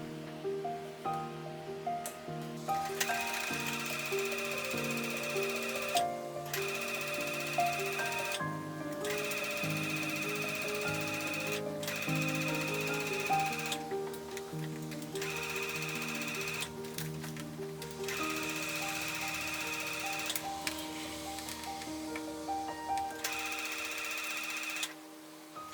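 A sewing machine stitches a tie onto the front bodice of a beach cover-up, running in long steady bursts separated by brief pauses, with a continuous rhythmic mechanical whir close by.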